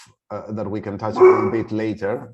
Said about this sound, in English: pardon me, that's my dog